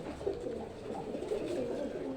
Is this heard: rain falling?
no